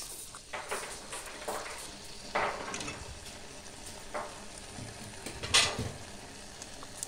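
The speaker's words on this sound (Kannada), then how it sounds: "ಇವಾಗ ಇನ್ನೊಂದು ಸಾರಿ ನಾನು ಕಲಸ್ಕೊತಾ ಇದ್ದೀನಿ" A spatula stirs a sponge gourd stir-fry in a pan, scraping and clacking in irregular bursts over a steady close sizzle, with no voices.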